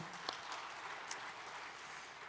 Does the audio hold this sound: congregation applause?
yes